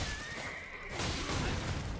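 A horse in the video game Elden Ring neighs loudly in a long whinny, followed by a rougher snort and huff over steady game background noise.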